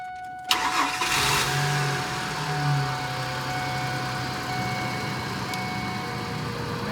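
A Ford F-150 engine cranks briefly and catches, then settles into a steady idle close by, with no talking over it.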